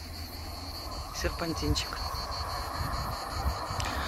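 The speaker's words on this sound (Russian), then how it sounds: "О, вот цикады." Cicadas buzz in a steady high drone across the hills near Nessebar, Bulgaria, beside the Burgas–Varna road, continuous and moderately loud while someone speaks briefly over them.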